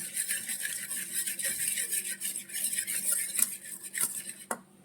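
Thick maida batter for broasted chicken stirred by hand in a bowl, a steady wet scraping and swishing that runs close and continuous, with small clinks of utensil on bowl and a brief knock near the end.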